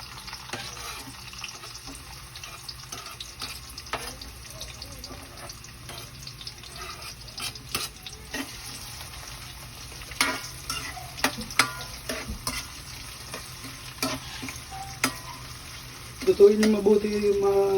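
Garlic and onion sautéing in a pan for gisadong bagoong alamang, a faint low sizzle with scattered stirring clicks and light scraping, growing busier toward the end.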